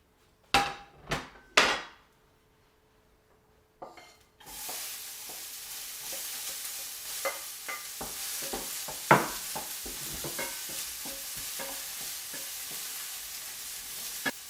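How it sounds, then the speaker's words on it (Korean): Onions stir-fried in a pan after carrots for a vegan poke bowl sizzle steadily and loudly, broken by frequent clacks of a utensil against the pan, after a few sharp knocks and a brief quiet. "당근은 살짝 말랑말랑 노곤노곤해질 때까지만 볶고 이제 양파를 볶겠습니다"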